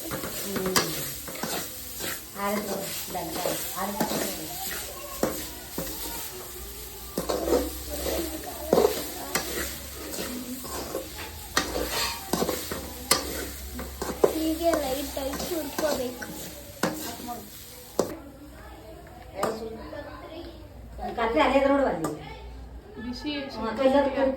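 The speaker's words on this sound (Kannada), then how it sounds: "ಕೆಂಪುಗಾಗೋ ತನಕ ಹುರ್ಕೋಬೇಕು ಹುರ್ಕೊಂಡು ಹೀಗೆ ಸಟ್ಟೆಗೆ ಸುರ್ಕೋಬೇಕು" Semolina and coconut are roasted in a pan for rava laddu and stirred with repeated close scraping strokes over a steady sizzle, while someone talks throughout.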